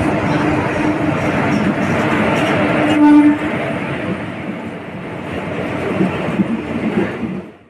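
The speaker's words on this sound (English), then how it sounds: "Here the Coromandel Express has arrived the Balasore railway station." The Coromandel Express rolls into Balasore railway station with a steady rumble and rattling wheels, and a short horn blast sounds midway before the noise gradually eases as the train slows.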